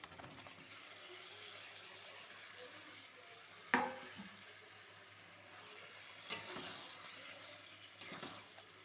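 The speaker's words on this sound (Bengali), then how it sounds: "এবার দিয়ে দেবো ভেজে রাখা পটল।" Fried pointed gourd goes into a simmering curry, which bubbles faintly and steadily, with three sharp spoon-and-pan clatters from stirring.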